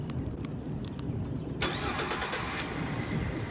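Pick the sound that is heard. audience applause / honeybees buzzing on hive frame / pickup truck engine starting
pickup truck engine starting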